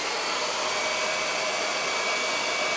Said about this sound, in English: I've never done it with a blow dryer